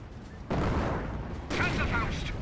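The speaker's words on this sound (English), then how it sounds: "I think that was a commando decoy barrage." A commando decoy artillery barrage lands in Company of Heroes, two heavy booming impacts about a second apart with rumbling tails, heard close and loud.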